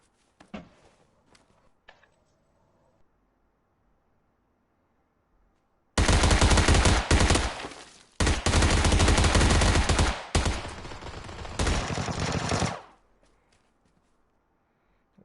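Loud, close pump-shotgun fire in PUBG erupts after quiet shuffling, blasting in heavy bursts over several seconds with brief gaps before fading back to near silence.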